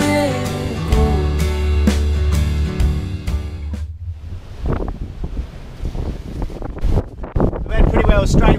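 Wind buffets a microphone aboard a sailing boat near Great Keppel Island, a loud, steady roar that carries throughout, joined by splashing water and rustling in the second half as a voice speaks over it.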